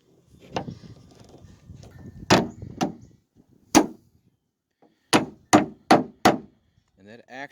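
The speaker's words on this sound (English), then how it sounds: "when I use the hammer, actually knocked the retainer clip into position" A hammer knocks a car's rear trunk lid retainer clip into position: sharp metallic knocks, first a few scattered strikes after some rustling handling, then a quick run of four close, loud taps.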